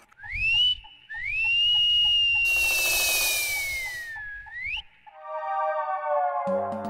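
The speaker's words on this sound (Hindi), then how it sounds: "सीटी किसने बजाई?" A man whistles a long, clear sliding tune, with a short first phrase and then a sustained wavering note, over a faint background rhythm, followed by a brief burst of noise and a different tonal tune.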